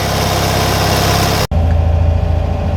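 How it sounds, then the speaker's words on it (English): An engine in a classic Fiat 500 runs fast on full choke, a loud, steady close drone that cuts out briefly partway through and then carries on. "So it's still running fully choked, which is why it's running that fast"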